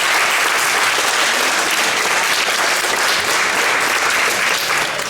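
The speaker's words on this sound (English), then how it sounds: "let's give the parents a round of applause" An audience at a school moving-up ceremony gives the parents a round of applause: loud, dense, continuous clapping from a large crowd that fills the whole stretch without letup.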